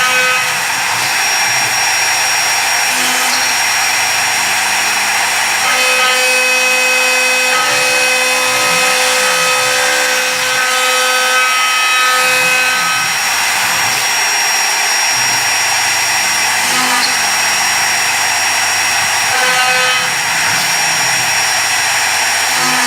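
A CNC three-way drilling machine works an aluminum profile, flipping it automatically, giving a steady, loud mechanical whine with a high tonal hum and faint rhythmic motor pulses underneath.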